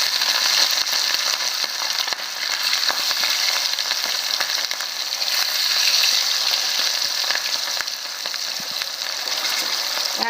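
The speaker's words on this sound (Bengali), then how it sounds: "তাই মাছটা দিয়ে দিচ্ছি গরম তেলে।" Rohu fish pieces frying in hot oil in an iron wok make a loud, continuous crackling sizzle, dense and even throughout with small pops and no voices.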